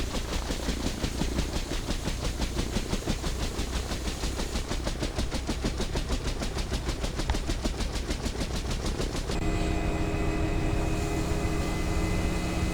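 A Bell UH-1 Huey helicopter turbine spools up at idle throttle in the X-Plane 11 flight simulator, a loud continuous whine with a fast rhythmic rotor chop that smooths into a steady hum near the end.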